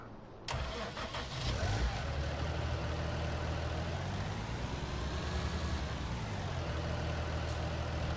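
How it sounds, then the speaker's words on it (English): A heavy tractor engine in the Farming Simulator 19 video game starts up and runs as the vehicle drives, a loud, continuous low rumble with a steady drone throughout. "This nice big heavy tractor,"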